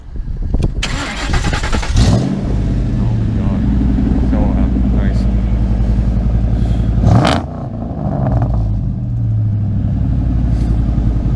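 A Ford Mustang's engine revs loudly and close, with throttle blips rising around the two- and seven-second marks over a steady rumbling idle, while people talk over it.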